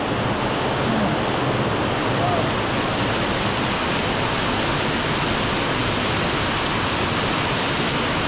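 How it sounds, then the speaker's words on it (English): Heavy rain pours steadily into a narrow alley in Macau after a typhoon, a dense continuous hiss with no breaks, close and loud throughout. "Instead we have all this heavy rain."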